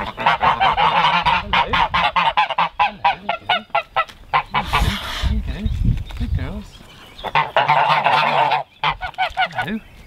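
Farm geese honk loudly and close by in rapid, overlapping bursts, pausing briefly mid-way before another noisy round of honking.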